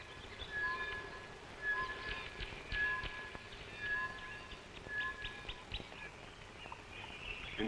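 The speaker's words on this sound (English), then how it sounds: "that sound is not a locomotive bell, but an anvil bird" An anvil bird calls in Kenya, repeated bright metallic pings ringing out at a steady pace, about one every second, over a soft background hiss like light rain.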